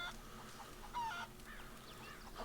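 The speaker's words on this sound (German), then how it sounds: "Direkt hier mit Hühnern einsteigen, auch nicht schlecht." Chickens cluck and honk faintly in a PC video game, sitting in a steady hiss of game ambience with one slightly louder squawk near the middle and no talk over them.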